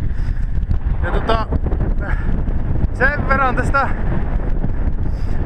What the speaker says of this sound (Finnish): Täällä tuulee niin paljon, että ei tarvi hengittää.